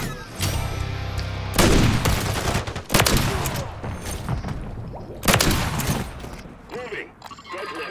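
Rapid automatic gunfire in the shooter game Modern Warfare 3, loud bursts breaking off and restarting several times, with a player talking between the volleys.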